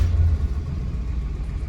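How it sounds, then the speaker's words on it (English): A 1967 Ford Mustang with a 289 V8 engine idles as a steady low rumble, with a heavier burst at the very start, close and continuous, with no talking. "let's start this bad boy up."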